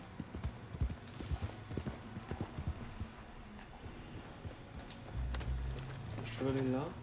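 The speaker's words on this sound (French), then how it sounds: "Le cheval est là." Horse hooves clip-clopping in the video game Red Dead Redemption 2, a run of crisp, close hoof strikes with jingling tack, followed by a low rumble and a brief whinny-like call near the end.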